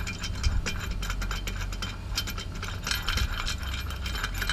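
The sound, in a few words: wrench ratcheting STM secondary clutch bolt on Can-Am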